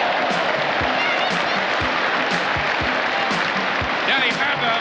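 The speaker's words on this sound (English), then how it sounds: "And plenty of applause for a popular Springbok visitor." Rugby stadium crowd applauding South African Springbok centre Danie Gerber's hat-trick try, a steady dense roar of clapping and cheering throughout, with a commentator talking over it.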